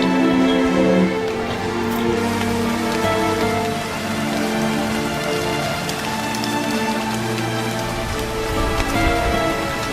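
Heavy rain pours steadily and loudly, drops drumming on a surface throughout with no break.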